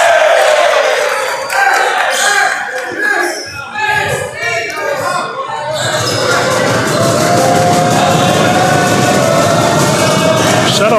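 Loud crowd noise fills a school gym during a high school basketball game between FEIA and RNS, with cheering and shouting continuing throughout, a commentator talking over the first half.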